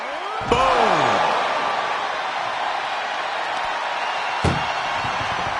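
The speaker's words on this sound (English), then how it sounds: "Trying to at least slam one door shut." In the WWE 2K24 wrestling game, an ambulance door slams shut with a sharp metallic bang, followed by a rushing crowd-like roar and a second, lighter thud near the end.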